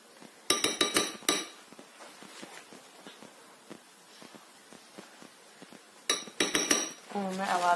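A metal utensil clinks and scrapes against a pot while yellow carrots are stirred into a plov mixture, with two bright bursts of rapid clanks separated by softer scraping and tapping, and a voice briefly at the end.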